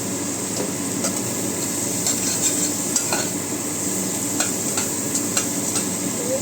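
Pasta sizzling in a pan, a steady crackle with scattered clinks and taps of a utensil stirring, close and fairly loud, no talking.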